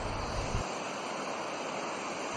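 A river at Parshuram Kund in Arunachal Pradesh rushes steadily as a loud, broad wash of flowing water, constant throughout with wind buffeting the microphone at the start.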